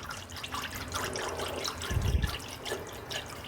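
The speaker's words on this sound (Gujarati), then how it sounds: "દહીં અને પાણી આપણે વિસ્કરની મદદથી આ રીતે ઝેરી લેશું" Yogurt and water whisked together into buttermilk, a soft, close sloshing and liquid swirling with a slightly fuller splash midway, quiet overall and with no talk.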